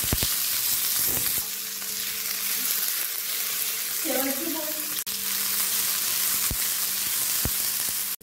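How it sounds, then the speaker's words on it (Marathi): Pigeon pea seeds roast in a little oil on a hot griddle, giving a continuous close sizzle and crackle with occasional sharp clicks of stirring. "यावरच टाकत आहे मी थोडंसं तेल आणि हे आता तेलामध्ये आपण भाजून घेऊया।"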